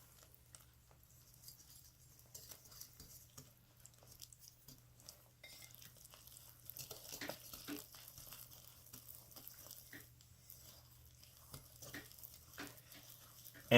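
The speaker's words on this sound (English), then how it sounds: "stir to incorporate" Quick bread batter of buttermilk, melted butter and two eggs being stirred in a bowl, giving a faint, steady wet patter and soft scraping with no voices.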